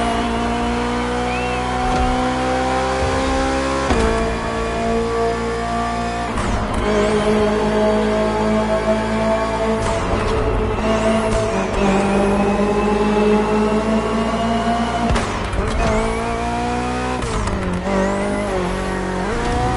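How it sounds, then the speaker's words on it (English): A 2023 BMW M Hybrid V8 endurance race car roars loudly and steadily in a racing game, engine pitch climbing and dropping through repeated gear shifts and throttle lifts, with occasional tire squeal. "The BMW M Hybrid V8. What a beast."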